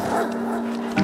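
Barkley the dog in the video game The Red Lantern gives a single short, high bark, close and clear, cut off at the end by a brief voice.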